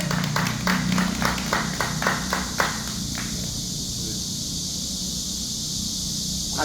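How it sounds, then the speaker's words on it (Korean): Brief outdoor applause at a Busan car parade send-off rally, a short burst of scattered clapping over steady background rumble and noise, fading out after about three seconds. "자, 박수 주세요."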